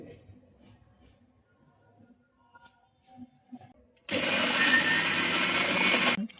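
A kitchen mixer grinder blends red chutney made with red chili powder for vada pav. After a few seconds of quiet background clatter, it starts abruptly and runs loud and steady for about two seconds, then stops.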